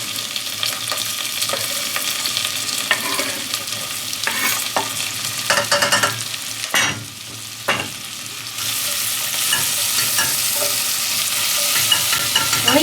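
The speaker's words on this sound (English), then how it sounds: "leave that to saute until it's translucent, until the onions have lost most of their color and are basically see-through" Onions sizzle loudly in garlic butter as they're stirred around a pan, scraping and clattering in bursts over a steady frying hiss, with no talking.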